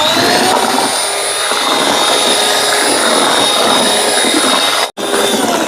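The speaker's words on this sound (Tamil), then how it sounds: "இனி இதையும் 1 நிமிஷம் பீட் பண்ணி எடுப்போம்" A loud, steady electric hand mixer whirs at full speed through butter cake batter, close and continuous, with one brief cutout near the end.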